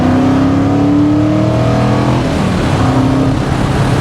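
A modified TVR Griffith 500 pulls hard in third gear, its engine roaring loud and close with a rising, rasping pitch that climbs steadily and then briefly eases.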